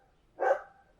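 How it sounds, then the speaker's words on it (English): A single dog bark bursts out once, fairly loud and close, in a quiet room during podcast recording, with the start of another bark cut off at the end. "My dog is barking while I'm recording a podcast."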